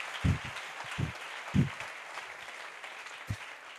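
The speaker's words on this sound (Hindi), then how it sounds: "तालियां बजाएं भाई के लिए" A church audience claps for a man during a sermon, heard as a few scattered, thumping claps over a steady hiss of room noise rather than a full ovation.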